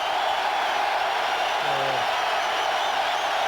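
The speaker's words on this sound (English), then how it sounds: "Listen to the crowd here at RFK, though." Football stadium crowd at RFK during a Monday Night Football game between Washington and Denver, a steady, dense roar of cheering voices filling the whole stretch at a constant loud level.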